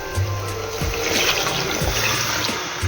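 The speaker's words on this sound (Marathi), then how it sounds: "वाटण घातलं आहे, आता याच्यामध्ये आपण पाणी घालून घेऊया." Water being poured into a pot of Malvani fish curry masala, a steady close splashing and gushing pour lasting the whole stretch, with a low hum underneath.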